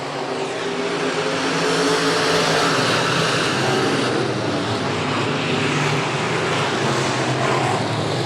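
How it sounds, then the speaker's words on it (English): SportMod race cars on the Buena Vista Raceway oval roar past under green-flag racing, a dense, steady engine drone that stays loud throughout with no clear gaps. "To the green flag, we're back racing."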